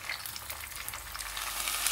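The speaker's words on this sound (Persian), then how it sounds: "به آرومی و بدون اینکه به برنجامون آسیبی وارد بشه یک کوچولو تفتش میدم" Rice being toasted in oil and butter in a pot gives a soft, steady sizzle with faint crackles, heard quietly and alone.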